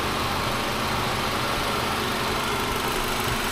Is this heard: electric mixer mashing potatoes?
no